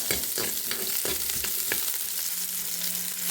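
Shallots fry in a pan with a close, continuous sizzle, punctuated early by a few sharp stirring scrapes before settling into a steady hiss.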